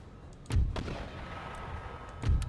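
Cannon artillery fire in the Empire Total War game, Darthmod version: two heavy booming shots about two seconds apart, with a lighter crack in between, over a low rumbling battlefield background.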